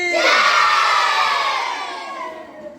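A crowd of schoolchildren shouts together in one loud, sustained cheer answering a patriotic Bharat Mata chant, the roar fading gradually over a few seconds.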